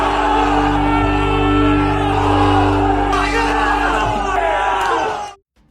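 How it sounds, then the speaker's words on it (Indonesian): A submarine crew of men in a film shout and cheer together, loud and sustained, their voices overlapping before cutting off abruptly. "seluruh kru berteriak gembira"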